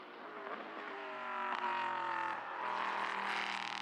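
Prototype race car number 26 on the Mugello circuit, its engine a steady, loud, rising whine with strong harmonic tones and no break across the whole stretch.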